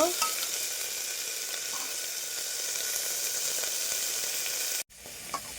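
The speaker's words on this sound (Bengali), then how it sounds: "গুলোকে নেড়ে চেড়ে একটু বাদামি বর্ণের করে ভেজে নেব" Sliced onions fry in a pan with a steady, bright sizzle while a spoon stirs them, followed by a short break and a faint scrape, with no voices.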